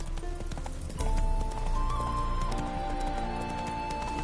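Horse hooves clip-clopping steadily in The Witcher 3 on PS5, a close, continuous rhythmic clatter of a mount's steps mixed with game music and ambience.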